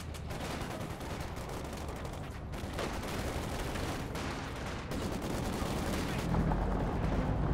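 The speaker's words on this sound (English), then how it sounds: "He's got so many machine guns as well." Sustained machine gun fire in Company of Heroes 2, several guns chattering in overlapping bursts with booming impacts, a dense continuous barrage with no talking over it.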